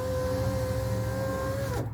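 Car power window motor whirring steadily as a new regulator drives the glass, a continuous electric hum that winds down and stops sharply near the end.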